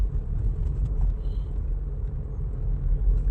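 A car being driven at night, with a steady low engine and road rumble filling the cabin throughout, continuous and fairly loud, with no talk.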